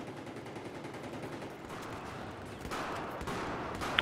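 Gunfire in the video game Battlefield 4, heard as a fast series of faint, sharp shot cracks over a dense, noisy game background, without talk.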